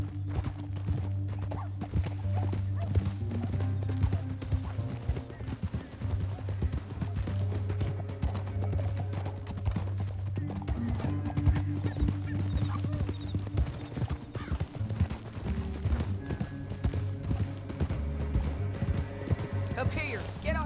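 Rhythmic clip-clop of horse hooves at a run in Red Dead Redemption 2, continuous under a droning music score, with a whinny mixed in.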